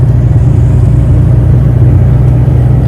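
A car driving up a mountain road near Benalmádena, heard from inside as a loud, steady low engine and road rumble with no breaks.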